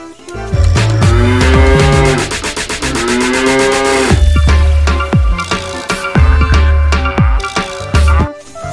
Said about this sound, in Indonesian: ini hewan ternak sapi